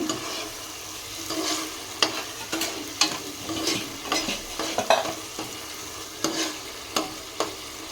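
Kaju paneer masala gravy frying on a gas stove at low flame as it is stirred in the pan, with a soft continuous sizzle broken by repeated sharp scrapes and taps of the spoon, no talking.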